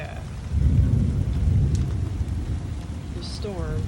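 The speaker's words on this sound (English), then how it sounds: "The storm right after we finished the beds." A thunderstorm pours steady heavy rain over freshly prepared garden beds, a dense low roar with a rumbling swell, while a brief faint voice comes in near the end.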